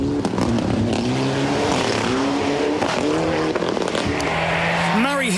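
A rally car tears flat out along a stage of Rally Otago in New Zealand, the engine screaming loud and close with rising and falling revs and gear changes, a tyre squeal near the end.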